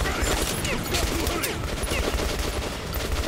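Dense, continuous gunfire from a gun in Metro Last Light, with rapid overlapping shots at steady high loudness throughout.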